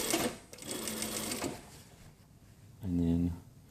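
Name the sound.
sewing machine sewing jacket back seam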